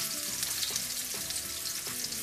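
Continuous crackling sizzle of stuffed bitter gourd frying in hot oil, close and steady, with a few faint clinks.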